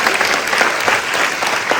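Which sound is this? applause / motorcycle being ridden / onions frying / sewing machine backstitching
applause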